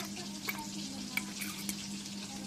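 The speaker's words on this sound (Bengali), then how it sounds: "চুলায় মাছটা ভাজা হচ্ছে" A steady, close sizzle of pangas fish frying in hot oil, with a few sharp metallic clinks now and then and no talking.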